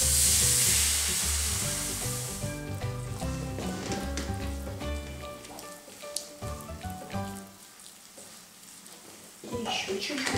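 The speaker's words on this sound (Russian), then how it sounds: "Обжариваем и добавляем по чуть-чуть молока" A roux of flour and butter frying in a pan as milk is poured in bit by bit for béchamel sauce: a bright, close sizzle that fades into gentler bubbling and stirring, with a voice heard over it.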